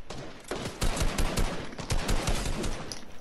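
Desert Eagle pistol gunfire in Fortnite, heard as a dense, fast string of loud, sharp gunshots packed closely together throughout.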